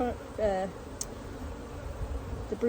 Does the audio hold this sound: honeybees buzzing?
yes